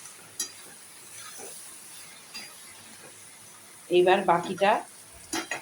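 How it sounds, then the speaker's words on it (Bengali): Masala spice paste sautéing in a pan for mutton curry, giving a soft steady sizzle under quiet kitchen sounds, with someone speaking briefly near the end. "আমার এইখানে এই মশলাটা কষা হয়ে গেছে"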